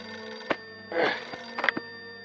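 A telephone bell ringing as a radio drama sound effect in an early-morning 1950s-style murder mystery, a few short, separate rings against a quiet steady hum.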